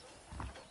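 Horse hooves clip-clopping in Red Dead Redemption, a few soft, muffled hoof strikes on a ranch, quiet and close with low rumbling beneath, no speech.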